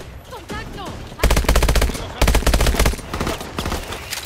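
Rapid automatic gunfire in Call of Duty Advanced Warfare, two loud sustained bursts of fast regular shots following quieter combat noise, with a voice talking over the action.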